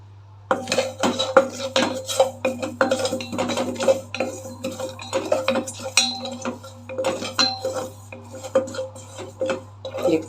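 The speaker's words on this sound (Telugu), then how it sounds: "ఇప్పుడు జీలకర్ర వేసి వేపుకుందాం" Cumin seeds dry-frying in a pan for a hotel-style roasted lentil powder, giving steady light clicks and scrapes of stirring against metal cookware, close and moderately loud, with no talking.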